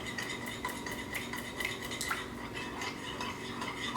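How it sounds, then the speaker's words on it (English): Peanut coconut sauce is stirred in a pan with a soft, continuous scraping and light clinks of a utensil, quiet and steady for a few seconds with no voices. "So we're going to get a beautiful peanut coconut sauce here. Keep stirring that."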